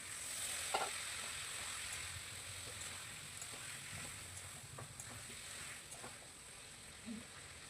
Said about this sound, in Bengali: আমি যা ভেজে রেখেছি মাছ, পটল, আলু সব একসাথে দিয়ে কষিয়ে নেব